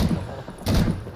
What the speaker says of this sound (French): Oh merde, j'ai tiré sur mes potes.